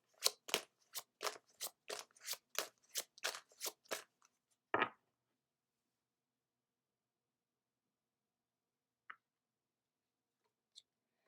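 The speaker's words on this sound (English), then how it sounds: "Next, we'll pull a card from the Keeper of Light deck." A Keeper of Light oracle deck is handled: a run of about ten quick, evenly spaced papery card snaps, then one louder flick, followed by near silence with two tiny ticks.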